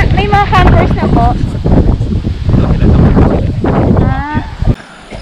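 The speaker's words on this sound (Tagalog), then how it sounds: "Hangin." Strong wind gusting across an open hillside campsite at a family farm in Nasugbu, Batangas, buffeting loudly and continuously while people talk over it.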